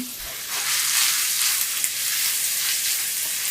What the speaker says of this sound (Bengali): পেঁয়াজ এবং মরিচগুলোকে হালকা করে একটু ভেজে নিলাম।